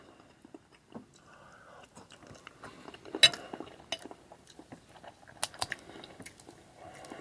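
Crab legs dipped in butter being eaten up close, with quiet wet chewing, soft bites and scattered sharp shell cracks and clicks against a low room background.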